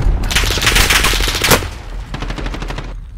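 Rapid bursts of video game machine gun fire rattle loudly and close, one long stream followed by a shorter volley, with no talk.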